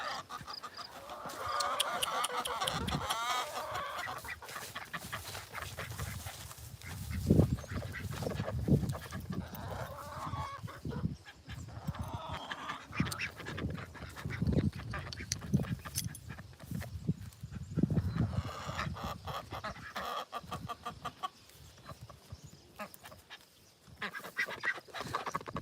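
Ducks and chickens crowd around a farmer in a hot pasture, with repeated quacks and clucks at close range, scattered irregularly throughout alongside rustling movement.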